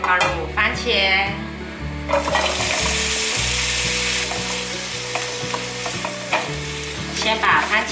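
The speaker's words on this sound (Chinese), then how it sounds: "油稍微热了之后，放入番茄，" Tomatoes frying in olive oil in a pan, a loud steady sizzle with stirring and scraping clatter throughout, background music underneath.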